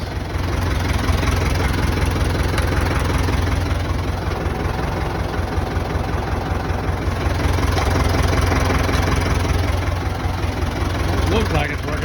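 A tractor engine runs steadily with the PTO engaged, a loud, close, low rumbling drone with a rhythmic chug throughout, while a person talks over it.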